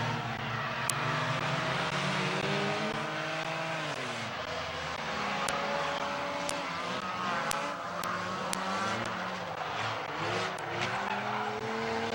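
A stock car spins out in turns three and four at Midvale Speedway, with steady loud engine roar from the racing field and whining, sliding tire sounds mixed through the whole stretch, heard from a distance.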